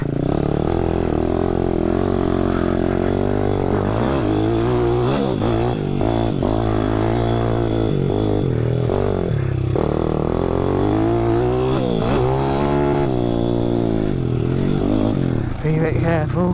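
A 155cc pit bike engine revs and idles close by, its rough mid-pitched drone rising and falling continuously over most of the stretch, with people talking over it.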